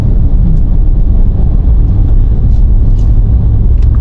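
Ford Ranger Raptor pickup with extra pack accelerating to overtake at around 50-60 km/h, a loud steady low engine and road rumble heard from inside the cabin, with no talking.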